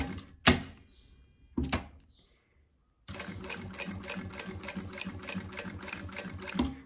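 A sewing machine with a size 20 or 21 needle stitches synthetic Montana leather for a wallet, running slowly in a steady, rapid mechanical rhythm for several seconds after two separate sharp knocks.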